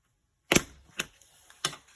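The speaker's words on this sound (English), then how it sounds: "put it on a piece of foam and line your staples up and shoot them into the foam" A handheld stapler fires staples into a piece of foam: three sharp snapping clicks, close and fairly loud, spaced about half a second apart with quiet between them and no voices.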